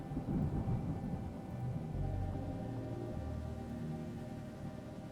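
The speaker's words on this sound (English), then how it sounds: "I find the rain sound pleasant." Rain and thunder ambience in the video game Triptych: a continuous hiss of rainfall over a deep rolling rumble of thunder, steady and fairly loud throughout.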